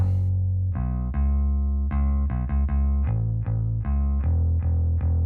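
A deep, saturated synth bass with tape saturation plays a rhythmic pattern of sustained and repeated notes, warm and slightly gritty, with no voices.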